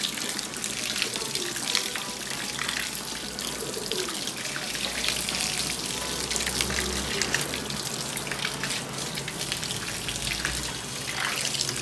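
Water gushes steadily from a hose pipe and tap while a model fort is washed, a close, continuous broadband hiss with a low rumble underneath that runs the whole time, with no talking.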